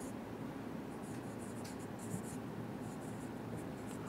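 A pen scratches steadily across paper while accounting entries are written out, giving a continuous close, soft scribbling texture with no speech over it.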